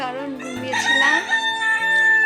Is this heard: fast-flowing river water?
no